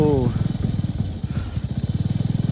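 A motorcycle on its double stand fires up on the first try and settles into a loud, close idle with a steady, rapid thumping beat; a voice is heard briefly at the start.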